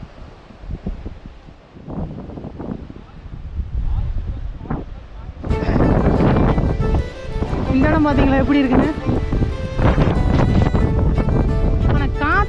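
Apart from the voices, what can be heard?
strong wind on hill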